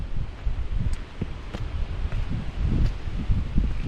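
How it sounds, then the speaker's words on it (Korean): Strong gusty wind buffets the microphone on a misty mountain trail near Cheonwangbong peak in Jirisan, a steady low rumble with a few faint rustles, close and loud throughout with no talking. "어 바람 세다"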